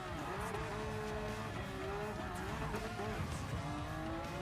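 Porsche 911 GT3 RS engine in Gran Turismo Sport revving steadily under part throttle on a drag strip, a loud continuous engine drone with rising pitch held for the whole stretch, alone without talk.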